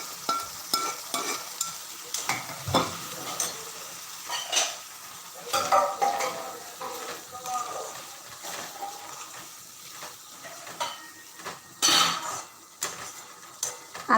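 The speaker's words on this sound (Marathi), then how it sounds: "आता त्यामध्ये आपण आपली वाफलेली गवार घालत आहोत" Steamed cluster beans tipped into a pan of Maharashtrian home-style vegetable and stirred, with scraping of a spoon against the pan, soft sizzling, and irregular clinks and taps over about fourteen seconds.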